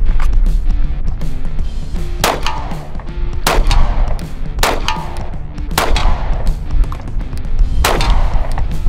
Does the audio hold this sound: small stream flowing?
no